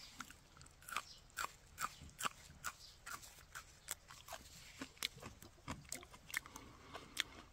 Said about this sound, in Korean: 제가 한번 자 줄기를 먹어보겠습니다